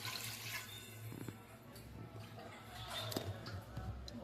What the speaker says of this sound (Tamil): அதுக்கு தகுந்த மாதிரி தண்ணி ஊற்றிக்கிறோம்